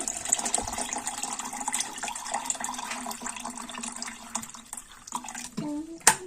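Water poured into a mix of yogurt, ice and mint leaves for a sweet-sour drink, a soft continuous trickle with faint clatter and a brief clunk near the end.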